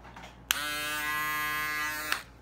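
A steady electric buzz of a Wahl Shaver Shaper electric shaver starts abruptly, runs evenly for about a second and a half, then clicks off, close and fairly loud.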